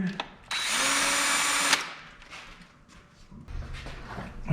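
A power tool runs in one steady, loud burst of about a second while removing bolts on a Ford Mustang Bullitt during a parts install. Softer clicks and handling noises follow.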